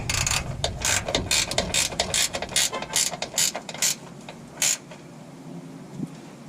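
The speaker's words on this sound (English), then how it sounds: "Take our 13mm wrench," Ratcheting 13mm wrench snugging a bolt on a vapor canister vent solenoid valve of a Chevy Colorado or GMC Canyon, a close, loud series of quick clicking ratchet strokes that slow and thin out toward the end.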